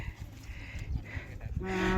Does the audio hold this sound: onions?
no